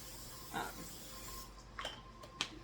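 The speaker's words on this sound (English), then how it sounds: "I'm going to use some cooking spray. I'm going to spray the tops of my chicken." Short hissing bursts of aerosol cooking spray onto chicken, a few quick pumps in a quiet room, close and fairly soft.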